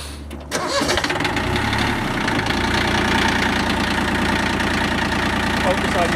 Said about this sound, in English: can you go ahead and start this up and show us how to actually fire up the tractor